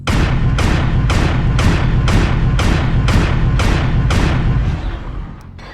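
Inner Sphere weapon firing in the mech combat game MechWarrior Online, seven loud booming shots in a steady rapid rhythm, each with a sharp attack and rumbling tail, then a quieter fading rumble, no talking.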